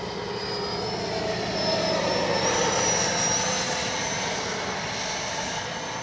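A Freewing L-15 RC model jet with a full flying stab passes overhead, its ducted-fan engine whining steadily with a rising and falling pitch as it flies through inverted flight, loud and continuous.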